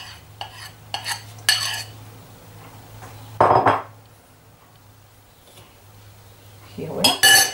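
Cake crumbs being worked together with melted white chocolate in a bowl, giving a few separate bursts of scraping and clinking utensil noise against the bowl amid quieter stretches, with a voice talking at times.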